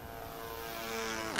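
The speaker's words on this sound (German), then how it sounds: "Ich will auch so ein ferngesteuertes Flugzeug." A small remote-controlled airplane in The Secret World drones steadily with a buzzing propeller whine that holds an even pitch and swells slightly louder toward the end.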